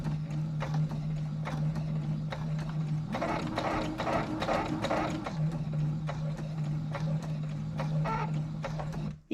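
A sewing machine set to a 1.6 stitch length sews a foundation paper pieced bullseye quilt block, a close, rapid mechanical chatter over a steady motor hum that speeds up briefly midway.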